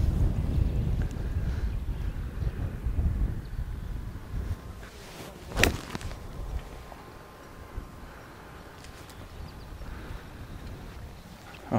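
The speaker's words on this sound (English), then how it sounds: "Wind's really pushing now." Strong wind on a golf course at Pebble Rock Golf Club: a steady buffeting roar with gusts and one sharp rustle midway, fairly loud at first and easing off, with no talk.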